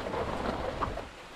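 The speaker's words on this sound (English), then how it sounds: "No, it's fucking raining." Rain in the horror video game Intruders falls as a soft, steady patter with low rumbles of thunder underneath, heard faintly and without voices.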